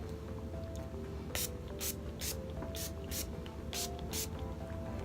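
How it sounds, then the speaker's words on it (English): Several short, close hissing bursts of NYX makeup finishing spray, spritzed in quick succession with brief gaps, over a low steady background hum. "Now I'm just gonna spray some finishing spray, and it's NYX one."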